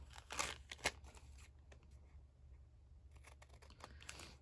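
Paper layer being snipped at an angle with scissors for a handmade junk journal, two sharp close cuts early on, then quiet handling and faint rustling of paper.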